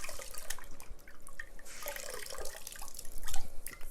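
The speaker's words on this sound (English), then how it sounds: "Just finish rinsing this off." A sponge being rinsed under a running tap, with irregular splashes and drips of water over a soft continuous flow, close and moderately quiet, without any talking.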